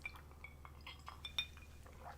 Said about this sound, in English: I need a little sip of whiskey here